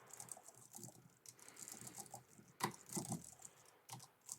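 Faint, quick typing on a computer keyboard while writing text into the Nano editor on Linux. The keys patter in an irregular run, with a couple of heavier clacks near the middle. The typing is soft and there is no speech.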